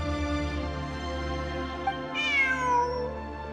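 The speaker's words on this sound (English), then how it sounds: "Look! A cat!" A cat meows in a video game, a single clear, drawn-out rising and falling meow over a steady tonal musical backdrop.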